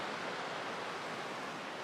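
Half Moon Creek near Leadville, Colorado, flows beside a dirt road, a faint, steady broadband rush of running water with no voices.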